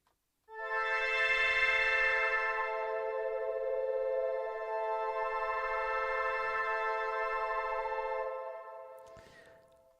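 Sustained synthesizer pad chords ring out loud and steady with rich stacked harmonics, holding for about eight seconds before fading, followed by a brief click near the end.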